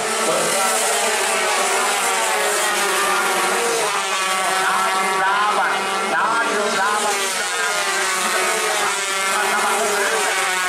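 Loud, continuous high-revving racing motorcycle engines roar past at a road race in Sidrap, South Sulawesi, Indonesia, with a steady whining drone and shifting pitch throughout.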